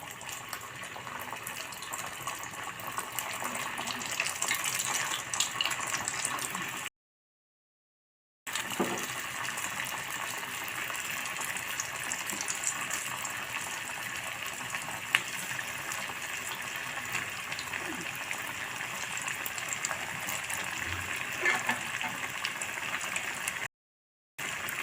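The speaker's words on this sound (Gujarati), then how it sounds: "હવે આપણે મુઠિયા છે તેને તરી લઈશું. તો આને ધીમા ગેસ ઉપર તરીશું." Muthiya dumplings frying in oil over a low gas flame: a steady, faint, hissing sizzle that holds evenly, broken by two short silent gaps.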